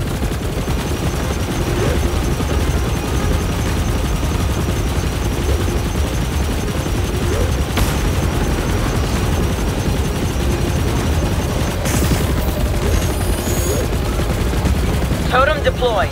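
Sustained volleys of cover gunfire in the Chorus sci-fi space flight game, dense and loud throughout with bursts of automatic fire, layered over engine rumble and brief game voices.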